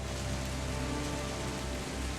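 Steady rain sound effect played as ambience during a Pathfinder 2e tabletop game session, a dense continuous patter of drops on a surface at an even level throughout, with no talking.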